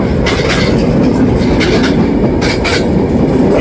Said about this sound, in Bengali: এটি ইন্টারনগর ইন্টারসিটি দ্রুতযান, যেটি পঞ্চগড় থেকে ঢাকার দিকে চলে গেল।